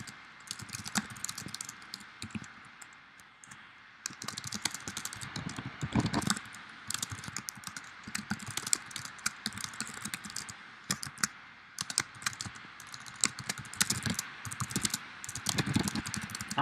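Rapid clicky keystrokes on a computer keyboard as a blog post title is typed, close and fairly quiet, in quick irregular bursts with brief pauses and no talking.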